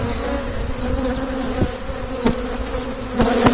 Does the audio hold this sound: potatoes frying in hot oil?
no